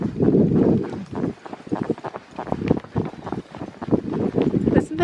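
Horse hooves clip-clopping along a county forest trail, heard close up in an irregular walking rhythm, mixed with breathy wind noise and a rider's voice talking over it.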